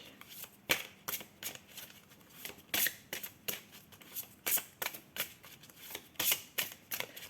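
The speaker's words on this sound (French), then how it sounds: "Ah, je sens qu'il faut bien mélanger" A Lumière de Fée oracle deck is shuffled by hand in a quiet room, giving a rapid run of crisp, papery riffles and snaps at a close, soft level with no talking.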